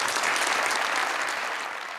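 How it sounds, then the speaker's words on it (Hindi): A studio audience at a Pakistani talk show gives a brief, dense burst of applause for a beauty cream gift hamper winner, steady and loud before easing slightly at the end. "हमारी सिया ब्यूटी क्रीम के गिफ्ट हैम्पर के विनर के लिए बहुत सारी तालियां।"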